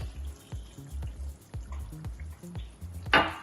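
Hot water, about half a cup, poured into a simmering pot of Thekwini-style curry seasoned with garam masala, giving a run of soft splashes and drips with low thuds, ending in a brighter rushing splash.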